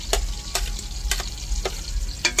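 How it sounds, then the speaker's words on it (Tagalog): Onion, garlic and ginger being sautéed for pinapaitan at a barangay fiesta, with a steady sizzle broken by several sharp spatula stirs against the pan. "Ito naman ang pinapaitan. Ginigisa na. Sibuyas, bawang, luya."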